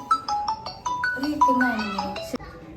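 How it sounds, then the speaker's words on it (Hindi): A melodic phone ringtone plays a short repeating chime pattern, fairly close, while a voice chatters over it. "दोस्तों रुके फोन आ रहा है"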